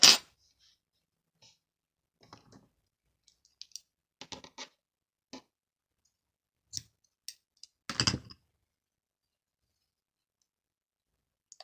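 Scissors snip through crochet yarn with a few soft, scattered clicks, ending in one sharper, louder cut near the end of an otherwise quiet stretch.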